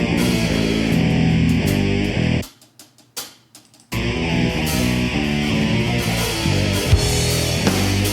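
Dense processed music plays with a reverberant wash, briefly dropping to sparse ticking before the full reverb-soaked sound returns.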